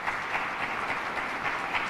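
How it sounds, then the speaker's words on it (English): An audience at a public safety briefing with the New York governor in Rochester applauds, a steady, moderately loud wash of clapping lasting about two seconds without speech. "Let's give a round of applause for"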